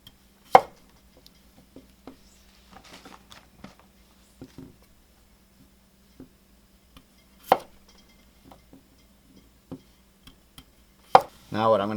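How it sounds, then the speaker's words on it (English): Potatoes being cut into chunks give scattered knife taps and a few sharper chops on a board, spaced irregularly with quiet gaps, ending in a brief burst of speech. "I'm going to be cutting the potatoes into chunks about that big."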